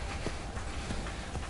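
Horse hooves clip-clopping in Skyrim VR, a quick run of soft, evenly spaced hoof falls against a dense, noisy background.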